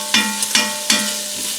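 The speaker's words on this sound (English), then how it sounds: "So just keep stirring" Bacon frying and being stirred in a cast enamel pot, with a steady sizzle broken by three or four sharp scraping stirs in a quick, uneven rhythm.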